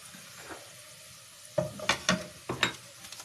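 Onions browning in a pan for chicken korma give a faint sizzle under several close scraping stirs and a few sharp clinks in the second half.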